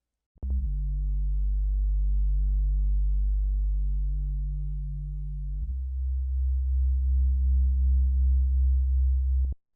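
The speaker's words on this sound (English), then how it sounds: "The bass is really simple, just a sine wave from OP1 with an auto filter to roll the top off" A deep, smooth sine bass holds one low note, then shifts to a slightly different pitch with a gentle pulsing wobble, alone and steady.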